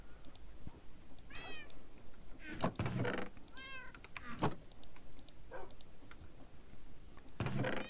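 A house cat meows repeatedly nearby, several short wavering calls spaced irregularly, mixed with soft thumps and clicks of movement in a quiet room.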